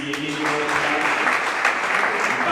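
An audience at an award ceremony for a news awards event in the DRC claps in a dense, sustained burst of applause, close and even throughout with faint voices mixed in.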